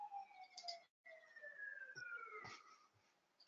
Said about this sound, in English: Sounds like an ambulance nearby.